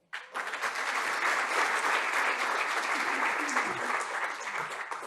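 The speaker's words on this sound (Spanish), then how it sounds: "les pido un aplauso para Paula Vargas, subdirectora de Diario Financiero" Audience applause at a Diario Financiero panel discussion on infrastructure, a dense, steady wash of clapping that swells quickly and holds loud and even throughout.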